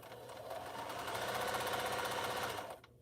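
Sewing machine stitching quilt fabric in a steady, rapid mechanical whir lasting a few seconds before stopping, close and clear with no talking.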